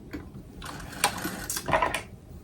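Singer 99k sewing machine chain stitching: a brief close run of quick mechanical needle clatter in a few uneven bursts, moderately loud, with no talk.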